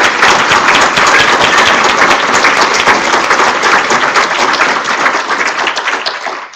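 Steady, dense audience applause at a space science conference honoring the New Horizons mission, loud and sustained for several seconds before tapering slightly at the end.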